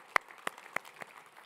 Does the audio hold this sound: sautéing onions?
no